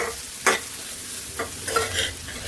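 Masala powder with chili powder and garam masala being stirred into fried rice in a pan: a few distinct scraping strokes over a soft, steady sizzle, close and moderately loud, with no talking.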